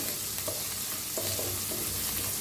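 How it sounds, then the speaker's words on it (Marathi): Ingredients roasting in a pan for kadhi, a steady close sizzle with occasional stirring scrapes and no voices. "छान असं भाजून घेऊया आता छान भाजायला लागलेत बघा"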